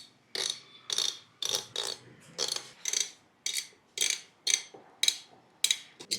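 Crisp mechanical clicks while a processor and fan are fitted into a gaming PC build, about a dozen evenly spaced ratchet-like clicks, close and distinct, with no talking.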